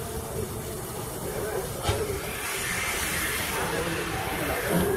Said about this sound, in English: That's the train we've just been on.